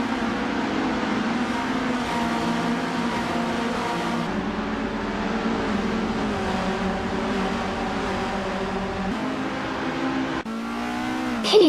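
Engines of Formula 1300 class race cars, including a 1981 Estonia 21, drone steadily in a video game race, rising and shifting pitch as they accelerate, with a brief pass-by near the end.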